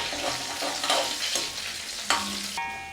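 Ingredients for a jackfruit curry sauté in a pan: a lively close sizzle punctuated by several scraping stirs, ending on a short metallic ring of the utensil against the pan.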